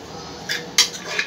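Metal utensil scraping and clinking against a cooking pot while chicken is stirred, three short clattering strokes over a faint background hiss.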